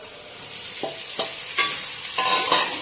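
Chicken liver frying among onions in a pan gives a loud, continuous sizzle, with several scraping stirs of a spatula over it and no talking.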